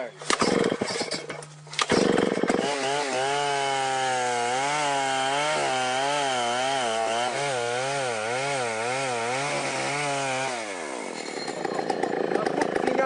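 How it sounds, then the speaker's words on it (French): A chainsaw roars loudly and continuously while cutting a tree, its pitch wavering as it bites into wood, then it cuts out near the end. "quelqu'un qui coupe un arbre avec une tronçonneuse comme ça"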